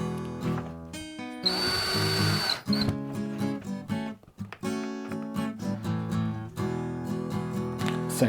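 A cordless power drill bores into a wall while a guitar wall mount is being installed, whirring in several short, close bursts separated by pauses.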